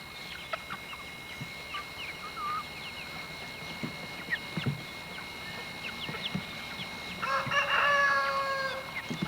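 Near the end a rooster crows once, loud and close, over a quiet farmyard with scattered chirps and small clucks.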